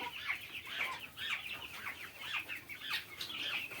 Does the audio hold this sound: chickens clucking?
yes